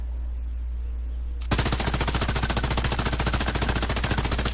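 A gun in the video game Call of Duty Warzone opens fire after a quiet start, a loud, fast, steady burst of automatic shots that runs on for about three seconds.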